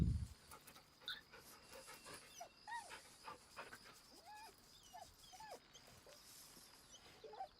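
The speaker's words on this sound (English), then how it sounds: "Gotta pet the pup." A dog pants softly and rhythmically while being petted, with occasional small whimpers and squeaks over a low background hum.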